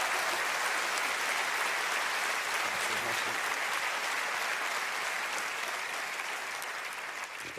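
A comedy show audience gives a spectator from Bordeaux a round of dense, sustained applause that holds steady for several seconds, loud and unbroken with faint voices beneath.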